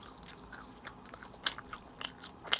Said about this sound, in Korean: 일단은 신메뉴 먹기 전에 우리 감자튀김 먼저 먹어보자.